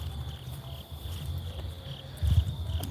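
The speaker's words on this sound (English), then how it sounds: "Okay, more crickets." Crickets chirping outdoors at night in a steady high trill, with a low rumble of nearby handling noise near the end and no talking.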